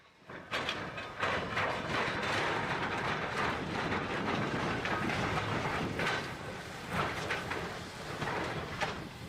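A classic steam train pulls out at the start of its journey, a continuous rolling rumble with rhythmic clanks and clattering bursts, fairly close and steady, no voices.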